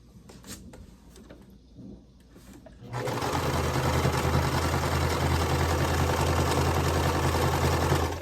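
A sewing machine stitches a Zinnia quilt block with scrap fabric, its steady motorized whir starting after a few seconds of quiet handling noises and then running loud and continuous to the end.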